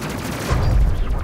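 Spaceship weapons fire at enemy ships in the video game Space Crew, a dense rumbling burst of shots with a heavy low boom swelling midway and continuing to the end.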